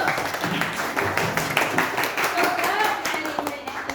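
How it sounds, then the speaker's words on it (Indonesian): A classroom group claps hands together, a dense, uneven patter of individual claps at moderate distance that carries on throughout with a few voices mixed in. "Tepuk tangan dulu"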